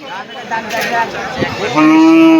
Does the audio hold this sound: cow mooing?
yes